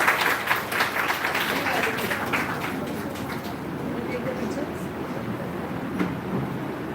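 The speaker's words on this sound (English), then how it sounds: "Can we please have a hearty round of applause for our guests today?" Audience applause for guests at a book launch, a broad, fairly loud wash of clapping that is strongest at the start and slowly fades, with voices underneath.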